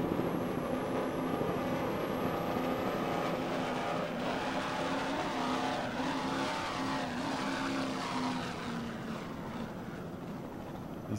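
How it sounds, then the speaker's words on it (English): Offshore powerboat racing engines on a 40-foot Platinum boat with Mercury Speedmaster drives and Stotler Racing engines, a loud sustained roar with slowly shifting pitch, heavy and continuous throughout. "Racing engines."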